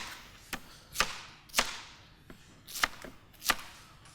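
Food is being cut into cubes with a knife: about six crisp, evenly spaced chops land on a cutting board at a steady rhythm, close and clear, with no voices.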